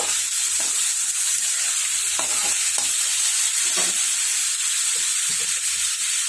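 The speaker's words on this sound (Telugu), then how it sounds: "సాల్ట్ వేస్తున్నానండి దాంతో ఒకసారి కలిపేసేయాలి" A spoon stirs a sizzling pan of banana curry right after salt goes in, with steady frying hiss and steam throughout and scattered scraping knocks of the utensil against the pan.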